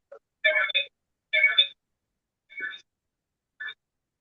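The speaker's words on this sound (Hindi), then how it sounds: "किसी का फोन" A telephone rings during an online class, with several short electronic ringtone bursts separated by silence, close and clear.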